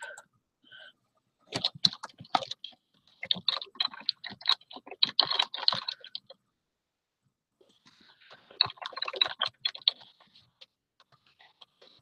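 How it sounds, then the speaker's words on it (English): Rapid clicking keystrokes on a computer keyboard arrive in two bursts of typing, close and crisp, separated by a short silent pause. "so I'm gonna type"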